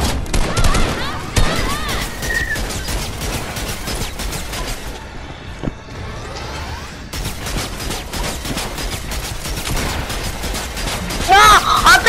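Rapid bursts of Fortnite gunfire crackle almost continuously, with heavy pump-shotgun blasts under excited talk and a brief quieter lull midway.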